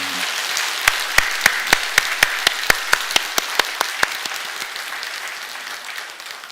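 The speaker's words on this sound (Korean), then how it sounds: "여러분 격려의 박수를 해주시기 바랍니다." A church congregation at a Sunday service claps in encouragement, a sustained wash of applause from many hands with sharp individual claps standing out near and loud, continuing steadily before gradually thinning.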